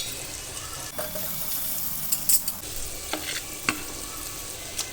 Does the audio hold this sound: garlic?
yes